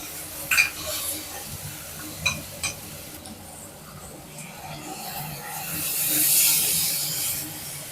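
Sea-fish curry is poured into a pan over sautéed tomato and stirred. Close spoon scrapes and stirring sounds come with a soft sizzle that rises into a steady hiss near the end. No one speaks.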